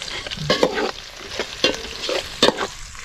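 Ginger, garlic and onion stir-fried for village-style pepper chicken, with a spatula scraping and clattering in quick irregular strokes over a steady close sizzle of hot oil.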